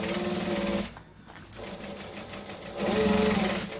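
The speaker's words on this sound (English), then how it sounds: "I want to sew it down so it's flat" A sewing machine stitches down the flap of a fabric camera bag, its steady mechanical run pausing briefly mid-way and then resuming louder, close and clear with no talk.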